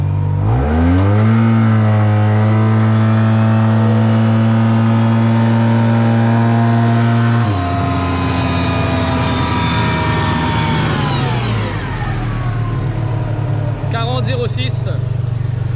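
A Yamaha TMAX scooter engine fitted with a turbo revs hard on a dyno, a loud steady high-pitched drone that climbs, holds, then drops partway and winds down, with people talking faintly underneath.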